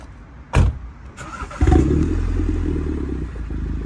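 A modified car engine cranks and fires at about half a second, then catches again and settles into a loud, rumbling idle with a deep, throaty growl.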